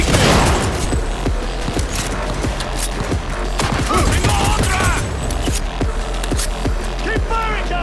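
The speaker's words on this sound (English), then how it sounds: "Keep firing, goddammit!" Rapid bursts of gunfire from a first-person shooter set in Night City, Cyberpunk 2077, with repeated sharp shots and booming impacts continuing throughout, under occasional shouted voices.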